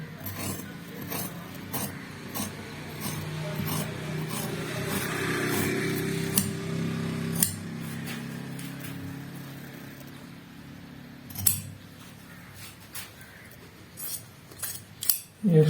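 Scissors cutting through shirt fabric for a down-shoulder suit, a steady rasping snip close by, with occasional sharper clicks of the blades and some background noise, no talking.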